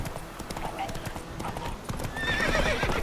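Roach the horse in The Witcher 3 video game: steady clip-clopping hooves throughout, rising into a loud whinny near the end, with a voice speaking over the hoofbeats.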